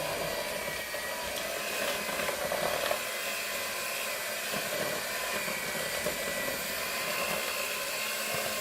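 A new electric hand mixer whirring steadily through strawberry cheesecake batter, a loud, constant motor drone with slight changes in pitch as it moves through the bowl, no talking.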